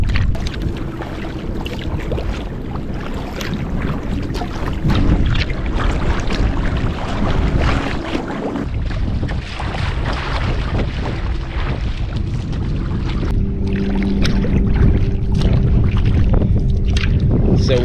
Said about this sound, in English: big headwind.